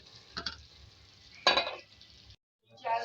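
Spoon scraping and stirring through a potato and bean (aloo sem) curry with chopped coriander in a pan, a few close, separate bursts of scraping and soft sizzle with quiet gaps between them.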